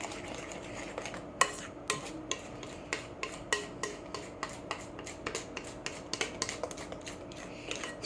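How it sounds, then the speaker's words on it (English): Pancake batter scraped from the bottom and sides of a mixing bowl, with a series of close, sharp utensil scrapes and clicks against the bowl at a fairly regular pace over a quiet background. "Scraping the bottom and the sides of the bowl to make sure that there's no hidden dough"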